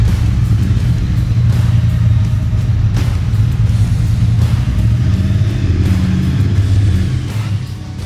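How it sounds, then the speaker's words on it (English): Triumph 2021 Bonneville T120 motorcycles ride onto a stage, a loud continuous engine rumble with rising revs that holds steady, then eases slightly toward the end. "let's get started straight away and bring on the bikes"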